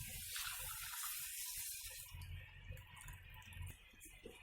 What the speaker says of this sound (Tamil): பாருங்க, நல்லா ஒரு கொதி வருது.